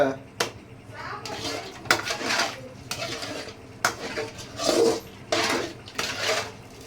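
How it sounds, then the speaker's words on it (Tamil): Water is poured from a pot during a home cooking and eating session, heard as repeated splashing, sloshing bursts with clinks of metal vessels, while people talk over it nearby. "ஊத்துறா இன்னொரு சொம்ப."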